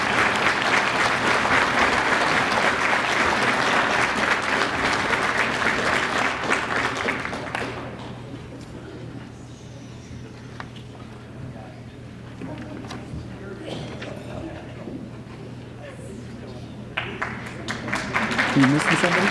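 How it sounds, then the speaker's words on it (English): Banquet audience applause for scholarship winners at a sports hall of fame induction, strong clapping for several seconds that fades into murmuring room noise and talk, with clapping swelling again near the end. "give them a big round of applause"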